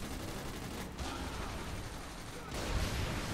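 Explosions in the video game Saints Row The Third make a dense, continuous roar of rapid blasts and gunfire-like bursts at low volume, with a heavier boom near the end.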